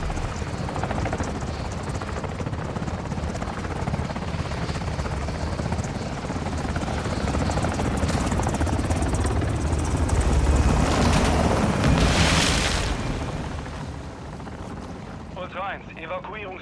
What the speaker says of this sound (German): Feindlicher Hubschrauber im Anflug auf eure Position.